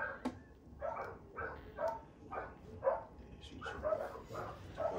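Bully breed dogs bark in a steady series of sharp, close barks mixed with whimpers, the barks coming roughly every half second against a faint kennel background.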